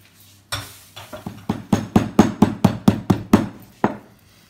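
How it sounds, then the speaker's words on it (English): A spatula is tapped again and again to knock off hardened almond praline. About a dozen sharp, close, loud knocks come in a fairly regular rhythm and speed up toward the middle, with no voices. "I'm going to let this just get hard on my spatula, and then I will break it off"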